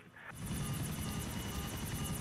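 Helicopter in GTA IV flying steadily, a loud continuous rotor thrum with rapid blade chop throughout, close and alone after a brief quieter start.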